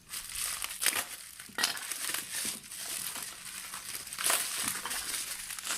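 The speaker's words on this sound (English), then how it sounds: "Now I'm going to cut into this." Heavy plastic and cardboard packaging around a hydraulic log splitter crinkles and crackles as it is cut open, with steady close rustling and several louder crunching bursts.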